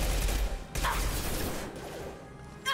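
Submachine gun fire in Mass Effect 2, a rapid rattle of shots with sharp bursts over steady battle noise, fairly quiet overall.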